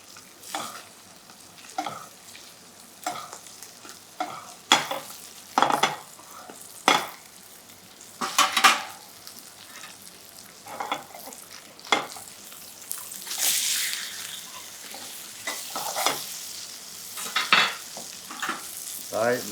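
Butter sizzles in a frying pan while a skate fillet is basted, with a steady hiss broken by frequent close scraping and spooning clicks throughout.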